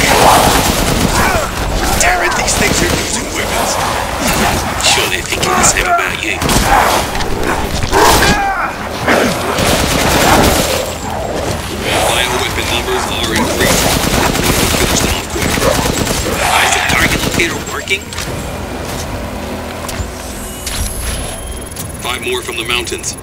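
Enemy gunfire in Resident Evil Village, with dense, loud bursts of shooting and booming impacts running almost nonstop, while voices speak over the action.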